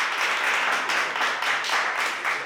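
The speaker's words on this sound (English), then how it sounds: "Clap your hands." A live talk-show audience claps their hands, a steady wash of applause swelling in soft pulses throughout.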